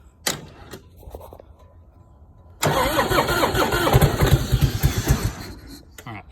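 Harley-Davidson motorcycle engine fitted with a cheap Amazon carburetor being cranked on a jump box, first short starter bursts, then the engine catching and running loudly and roughly for a few seconds before dropping away.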